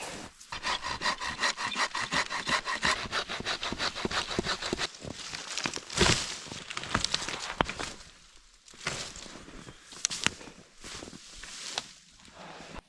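At a winter tarp camp in northern Minnesota at -16°F, firewood is sawn in quick, close, rhythmic strokes for several seconds, followed by scraping and shuffling of the wood with no talking.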